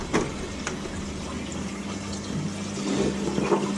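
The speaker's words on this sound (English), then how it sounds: "I get some water to soak the food in." Water running into a single cup to soak pellet fish food in a fish room, a steady close pouring and filling sound that swells slightly toward the end.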